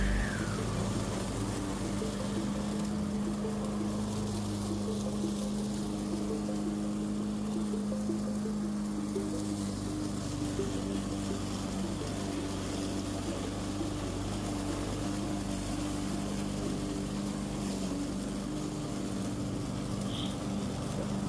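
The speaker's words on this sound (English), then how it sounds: "This is a dewalt, a 21-inch dewalt mower that I got from Home Depot." A DeWalt 21-inch lawn mower runs steadily, giving a continuous, moderately loud engine drone with a constant hum and no breaks or talking.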